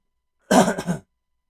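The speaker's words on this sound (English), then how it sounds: "I'm sorry about all the coughing." A short burst of coughing mixed with throat clearing, close to the mic, two quick rough pulses with no talking around it.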